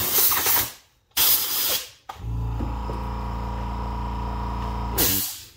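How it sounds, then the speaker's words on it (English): An air compressor blows fur out of the hinge of an Andis hair clipper, with two short loud blasts of air, then a steady humming motor run, and a final burst of air at the end. "I blow it out with an air compressor."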